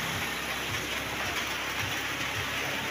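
Steady rain falling outdoors, a dense even hiss that stays constant throughout, with no voices.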